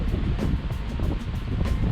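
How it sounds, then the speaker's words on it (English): Strong wind gusts against the microphone at a low-tide shoreline by Safety Harbor near St. Petersburg, a steady, loud roaring rumble that swells and pulses throughout, with no voices. "It's a windy day."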